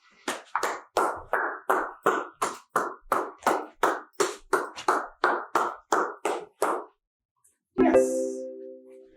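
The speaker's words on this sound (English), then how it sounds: "Walk around the dog, clapping your hands." A person claps their hands steadily while walking around a dog, about fifteen sharp, evenly spaced claps close by, then a short pause and a brief ringing tone at the end.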